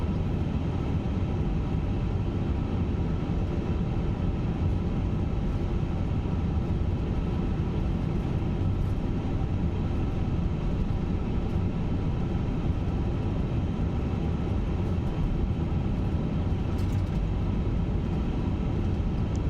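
An Airbus A350-900 taxis in a flight simulator at Ho Chi Minh City, a steady low engine drone and rumble running unbroken and even throughout, with no voices.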